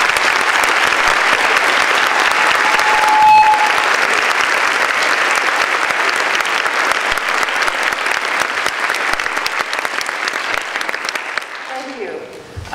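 Sustained applause from a lecture-hall audience at Arizona State University's law college welcoming retired Justice Sandra Day O'Connor, loud and steady for most of the stretch before thinning out near the end.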